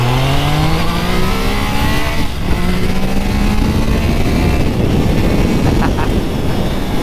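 A Triumph Trident triple-cylinder motorcycle revs hard, its whining engine rising in pitch through several sweeps, loud and close over rumbling road noise, with no talking.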